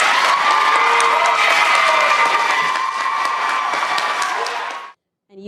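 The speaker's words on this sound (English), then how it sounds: "You can hear and see all of those people applauding" A council meeting audience applauds and cheers loudly and steadily for about five seconds, a dense wash of clapping and shouting voices that cuts off abruptly.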